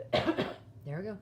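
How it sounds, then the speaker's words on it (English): A couple of rough, close coughs, followed by someone speaking briefly. "Coughing again."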